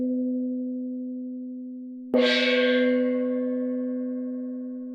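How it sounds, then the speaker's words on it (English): A gong sounds softly with a steady low hum, then is struck hard, bursting into a bright, splashy shimmer that rings on and slowly decays, alone without voices. "Here is a gong playing quietly and then loudly."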